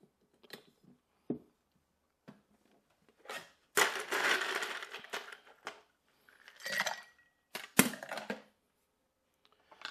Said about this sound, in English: So I'm going to give it a good little stir to chill it.